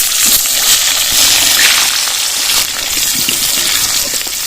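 Potatoes dropped into hot oil seasoned with cumin, dried red chilli and bay leaf for a Bengali ritha fish kalia, giving a loud, steady hiss and crackle of frying that runs throughout without pause.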